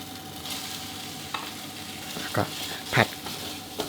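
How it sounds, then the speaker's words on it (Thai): Diced pork belly sizzles steadily in hot green curry paste, with a few clunks of a utensil stirring the pan; no one speaks. "ก็ให้เราใส่เป็นหมูสามชั้นที่เราหั่นเต๋าไว้ได้เลยครับ"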